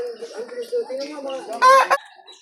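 A rooster gives a series of soft, rapid clucks, ending in a louder, harsher squawk up close.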